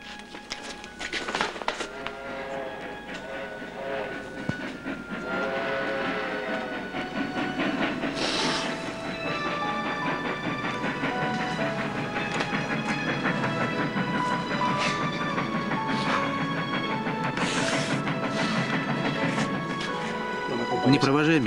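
A train at a station hisses with steam and rumbles steadily for a long stretch, with people talking over the continuous rail noise.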